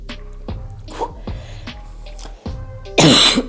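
Several throaty coughs and throat clearings come in a row close up, ending with a harsh, loud burst.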